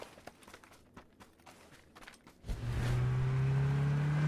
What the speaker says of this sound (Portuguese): Mais um carro passando lá.